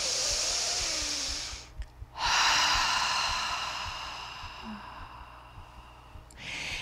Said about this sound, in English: take one big breath in, one big breath out